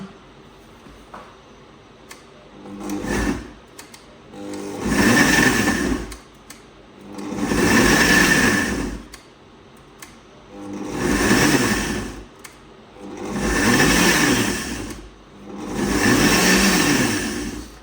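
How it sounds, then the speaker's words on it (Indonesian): A kitchen blender pulsing chili sambal in short bursts: five loud whirring spins of about two seconds each, separated by brief pauses, close by and with no talk. "Jadi blendernya itu pelan-pelan saja, sedikit-sedikit."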